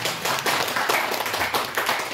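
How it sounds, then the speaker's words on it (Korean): Church congregation applauding together during a worship service, a steady wash of many hands clapping at close range for about two seconds with no talk over it. "우리 주님께 영광의 박수 드리겠습니다."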